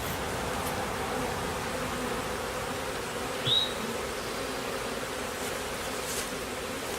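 Package bees buzzing around a homestead hive during installation, a constant low droning swarm outdoors, with a single louder bee passing close midway.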